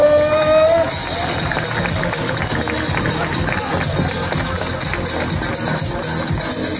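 At an outdoor motorcycle show, a crowd breaks into clapping and cheering that stays dense and loud throughout, after a short whine at the start, with busy crowd chatter mixed in.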